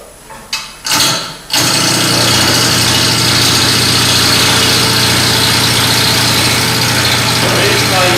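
A wood lathe rounds off the corners of a square blank for a bowl. A few knocks come first, then the lathe starts up and settles into a loud, steady motor hum with a low drone that runs to the end.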